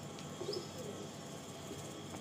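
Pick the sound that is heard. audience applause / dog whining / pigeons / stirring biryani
pigeons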